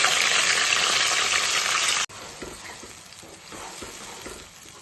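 A loud hiss of blended onion and tomato paste hitting hot oil, then a sudden drop to a quieter, steady frying sizzle with faint stirring.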